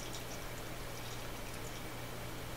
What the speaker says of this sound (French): J'arrose mes petites plantes